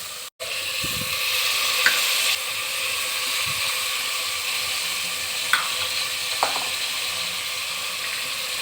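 Vegetables added to a hot pan with tomato and ginger-garlic paste for veg biryani, a continuous moderate sizzle with a few soft clinks and scrapes, no talking.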